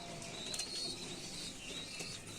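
Rajshahi Giribaz pigeon chicks in a loft give faint soft cooing and rustling, with brief fluttering over a quiet background.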